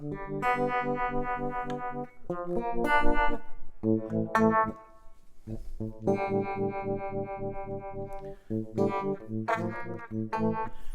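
Electric guitar chords through an Ernie Ball Expression Series tremolo pedal, with a pulsing, wavering volume effect, played continuously in strummed phrases with brief pauses.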